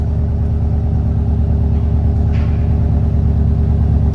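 An upgraded car engine idles steadily and loudly up close, with an even, smooth low rumble that holds constant throughout.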